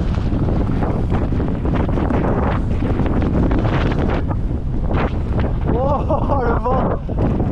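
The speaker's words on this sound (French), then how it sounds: "Oh, le vent." Heavy wind buffeting the microphone during a mountain bike descent on a Fox Float X2 rear shock, a loud continuous roar with gusty swells, while a voice talks briefly underneath.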